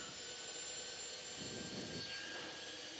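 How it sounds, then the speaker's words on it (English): A helicopter turbine engine spools up during a start, a steady broadband whine and roar holding at an even level, with a faint rising tone around the middle. "So you hear it? It's spooling up, and you can see the rotors up there."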